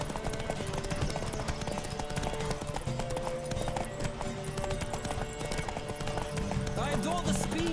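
A horse gallops in The Witcher 3, rapid hoofbeats clip-clopping steadily throughout with game music and voices talking over them.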